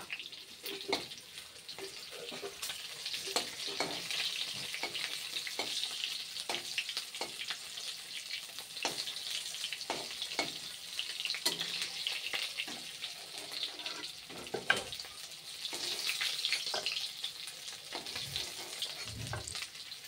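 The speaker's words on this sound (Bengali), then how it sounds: "যেগুলো মানে ভাজা হয় নাই, এগুলো কি করছি, তেলের মাঝখানে দিচ্ছি। আর সাইডে যেগুলো ভাজা হয়ে গেছে ওগুলো দিয়ে নামিয়ে ফেলছি।" About 500 grams of meat frying in hot oil while pieces are stirred and moved around the pan, a continuous close sizzle broken by frequent scraping and stirring clicks, with no talking.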